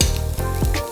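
Garlic hits hot frying oil in a pan of tempered cumin, onion and shallot for a duck curry, giving a loud, dense sizzle that swells briefly as it lands, with no voices.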